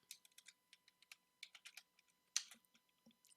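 Code being typed on a computer keyboard, a quick irregular run of crisp, close key clicks with short pauses between bursts and one louder keystroke near the middle, heard alone in a quiet room.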